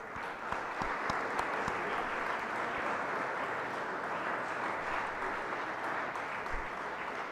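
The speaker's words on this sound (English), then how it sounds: "A loud applause for all of us." A lecture-series audience applauds at the close of an event, a dense, steady wash of many hands clapping that holds at an even level for the whole stretch with no voices over it.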